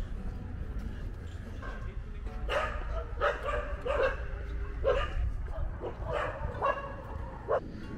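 A puppy on a university campus in India lets out several high, yappy barks and whimpers in short bursts, close by, over outdoor background noise and voices.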